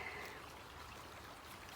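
Creek water rerouted for drainage through a town flows steadily with a soft, continuous rushing trickle, faint and even throughout, with no voices.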